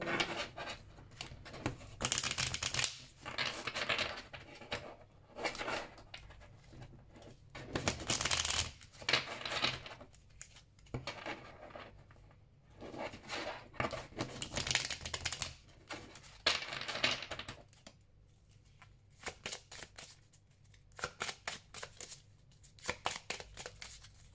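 Oracle cards with patterned backs being shuffled and drawn, a close run of brisk riffling and sliding bursts broken by short pauses in a quiet room, with no speech.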